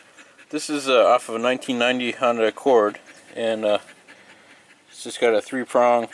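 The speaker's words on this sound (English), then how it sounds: "You hear some panting in the background, that's the dog there." A dog pants rapidly and steadily in the background behind someone talking about a 1990 Honda Accord vehicle speed sensor, the quick breaths running under his speech.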